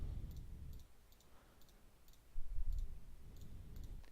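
Computer mouse clicks while filling in a banner design, several faint light clicks in small clusters, close, over a low background rumble.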